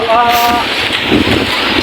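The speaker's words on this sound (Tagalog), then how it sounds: "Ang malakas ng hangin." Strong typhoon wind roars and buffets the microphone in a constant, loud rush, with a short voice-like tone at the start.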